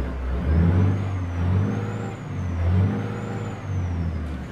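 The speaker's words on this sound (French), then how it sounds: "c'est le son moteur de Captain Crishbaum" A steady, loud Volvo FH truck engine in Euro Truck Simulator 2 rumbles and revs in waves, its low drone rising and falling with a faint high whine above it.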